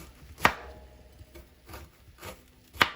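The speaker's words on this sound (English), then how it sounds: "Now I'm dicing my carrot into small pieces." A knife dices a whole carrot into small pieces on a cutting board for a Jamaican beef stew. It gives a few sharp, separate chops with uneven gaps between them, close by and clear against a quiet room.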